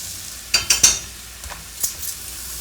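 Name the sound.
stirring beef stew meat sizzling in the pot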